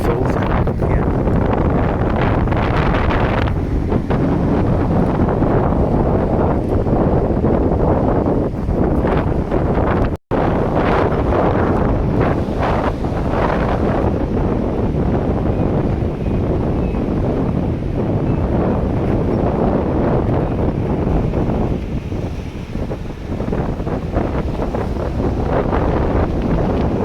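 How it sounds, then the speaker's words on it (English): Strong, gusty coastal wind on the Isle of Arran during Storm Kathleen roars and buffets the microphone almost without pause, loud and close, with surf rumbling beneath. "we're back on the coast and the wind is back full time again"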